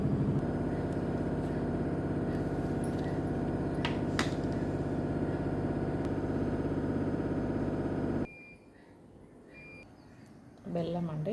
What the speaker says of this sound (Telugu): ఆరబెట్టుకున్నాక ఇలా చేసి మిక్సీ పట్టుకోవాలి.